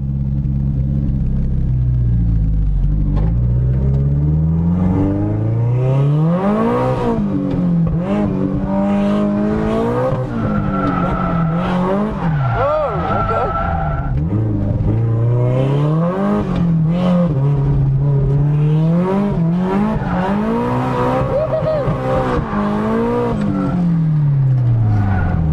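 A Suzuki Jimny fitted with an SR20 engine drifting: loud, close engine revving that surges and falls repeatedly, with tires squealing, nonstop throughout.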